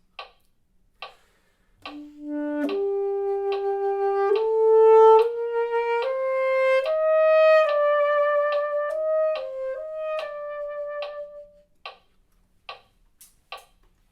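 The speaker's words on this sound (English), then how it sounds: "And with a metronome from the beginning, it would sound like this." An etude for a melodic instrument played at eighth note 72, its sustained rising then falling notes set against steady metronome clicks that tick alone before and after the phrase.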